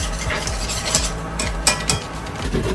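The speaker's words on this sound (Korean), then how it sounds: "가만 놔두면 뭉칠 수 있으니까 조금 저어주셔야 돼요." Glutinous rice flour being stirred into anchovy-kelp broth in a pot, a close continuous swishing and scraping of a spoon with light clinks against the pot, no voices.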